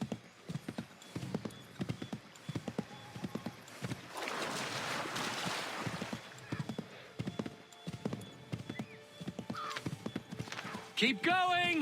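Horse hooves clip-clop in a rhythmic gallop in Assassin's Creed III, heard in a loud stretch and mixed with a neigh near the end. Game sound effects and people talking play over the hoofbeats.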